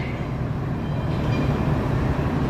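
Rumble of an arriving subway train at the Times Square station in New York, a steady loud low roar with rail clatter running throughout, no voices.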